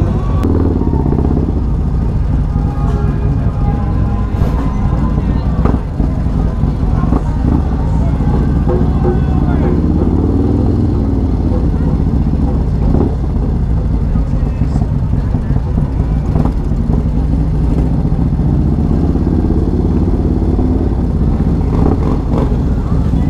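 Harley-Davidson motorcycles roll past at Leesburg Bikefest, a loud, continuous rumble of engines and street noise heard up close from a moving bike, with a voice faintly mixed in.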